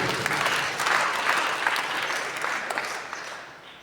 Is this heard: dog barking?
no